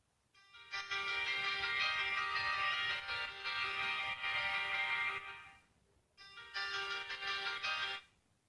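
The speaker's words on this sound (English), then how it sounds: "You have that ringtone." A NO.1 S8 mini mobile phone ringtone plays loudly as a bright, repeating melodic pattern for several seconds, pauses briefly, then starts again.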